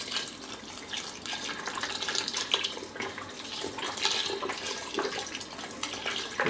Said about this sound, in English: we're going to add a little chicken stock to it